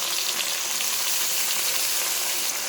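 Goat meat frying with garlic, ginger and chili paste makes a bright, even hiss of sizzling oil, steady and close with no pauses and no voices.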